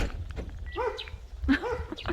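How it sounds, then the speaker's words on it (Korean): A dog met at a traditional house in Boryeong's ginkgo tree village gives a couple of short, close barks or yips, with some background noise between them. "여기서도 멍멍이를 만났네요"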